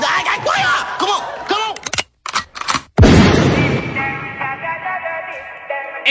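Gunshot sound effects in a rap diss track: a loud, booming blast cuts in after choppy vocal bursts and brief silences, then rings out under a sustained musical tone.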